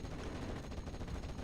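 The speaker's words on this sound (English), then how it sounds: "And then the 2 half-tracks exchange fire." Half-tracks trading gunfire in the WWII strategy game Steel Division: Normandy 44, a dense, continuous rattle of machine-gun bursts and shots over low rumble, steady and fairly loud throughout.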